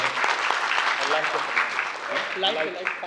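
Audience applause after a stage play, sustained clapping from the crowd that fills the clip while a voice speaks over it.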